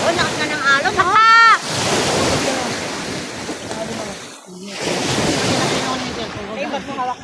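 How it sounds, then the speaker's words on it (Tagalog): Strong surf crashes and roars in repeated surges on Candalero beach, with wind buffeting the microphone, and a voice speaks briefly in Filipino over the waves. "Oh, lakas na ng alon."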